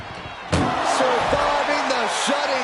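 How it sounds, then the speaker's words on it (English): A heavy slam as an ambulance door is forced shut during a wrestling match, one loud impact followed by crowd noise, with a commentator talking over it. "Trying to force the first door closed."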